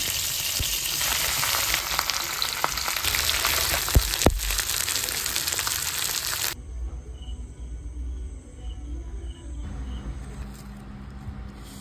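Curry leaves drop into hot oil in a pan for karimeen pollichathu, pearl spot fish wrapped in banana leaf, giving a loud, dense, close sizzle and spatter for about six seconds before it cuts abruptly to a much quieter low background.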